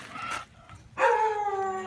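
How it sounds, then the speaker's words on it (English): A hound dog lets out one close bark followed by a drawn-out, wavering howl, with a softer vocal sound just before it and no talking. "There's another nice dog about the same, a similar hound dog."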